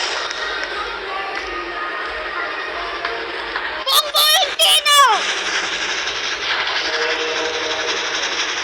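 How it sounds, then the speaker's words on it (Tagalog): A train rolls along in a video game with steady rumbling motion, broken midway by several short whistle or horn blasts, with a faint voice underneath. "My friend, she is now driving the train."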